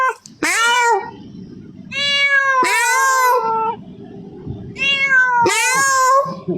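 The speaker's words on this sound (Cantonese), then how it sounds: "點知貓喺度叫啊？" Cat meowing in a pet shop, three loud, close, drawn-out meows with rising and falling pitch, separated by short pauses filled with low rustling background noise.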